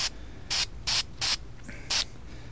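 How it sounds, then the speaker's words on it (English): Five short hissing bursts from a spray can painting Real Grade Gundam model parts, evenly spaced over a couple of seconds, with faint background noise between them. "always keep your hand moving while you're spraying."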